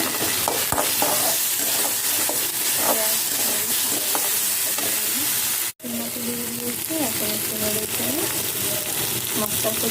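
Spices stir-fry in a pan with a loud, constant sizzle and frequent scraping stirs, briefly cut off once near the middle and then resuming, along with faint tonal background sounds.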